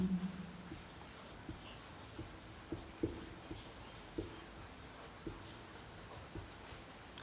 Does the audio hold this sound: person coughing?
no